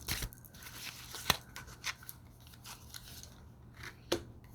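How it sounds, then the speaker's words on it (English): Tarot cards are drawn from a deck, giving faint scattered snaps and slides with a few sharper card clicks over a quiet room hum. "Let's draw 3 cards."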